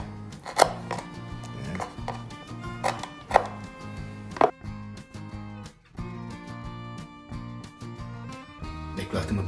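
A knife chops chicken liver and gizzard steadily on a cutting board, sharp knocks in an irregular run with a faint hum behind them.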